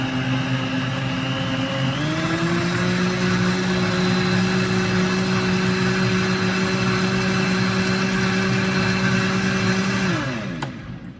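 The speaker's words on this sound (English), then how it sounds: "so it's just gonna keep blending" Kitchen blender running continuously while blending watermelon for agua de sandía, a loud steady whir with a slight rise in pitch after a couple of seconds, then winding down near the end with no talking.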